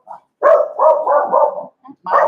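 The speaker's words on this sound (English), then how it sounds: "Smokey barks and Bandit comes over." A dog barks repeatedly at close range, a loud series of drawn-out, slightly whining barks in quick succession, separated by brief pauses of silence.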